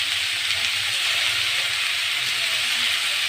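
Garlic ginger paste hits a hot pan for a beetroot egg fry, giving a steady, close, bright sizzling hiss that holds evenly throughout with no pauses or voices.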